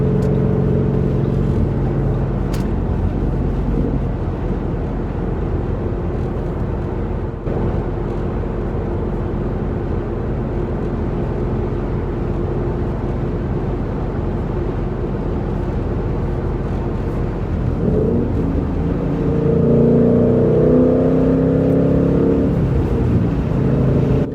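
A 2013 Mustang GT engine drones steadily while driving, its rumble holding for most of the stretch, then rising toward the end as the car is pushed harder.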